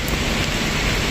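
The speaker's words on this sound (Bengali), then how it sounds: "জর্ডানে এখন অনেক বৃষ্টি হচ্ছে" Heavy rain falls in a park in Amman, Jordan, a dense, continuous close hiss of drops with no other sounds.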